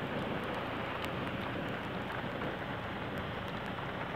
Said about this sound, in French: Il pleut toujours.